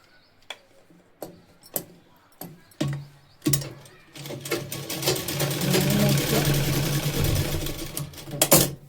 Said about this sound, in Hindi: इसके बाद ऐसे कटा हुआ बाद अस्तर को सिलाई कर देंगे